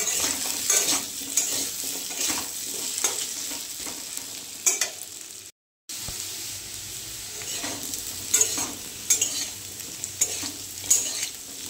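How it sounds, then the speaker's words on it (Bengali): Potatoes fry in oil in a pan with a continuous close sizzle, broken by spatula stirring scrapes and a momentary dropout of sound midway, with no talking. "এখানে আলুটা ভেজে নিচ্ছি"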